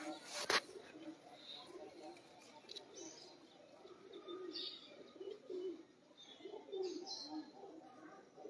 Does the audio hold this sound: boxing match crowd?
no